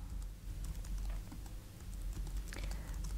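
Keystrokes on an Apple Wireless Keyboard paired with a Dell Streak tablet, clattering in short close bursts over a steady low hum, with no talking.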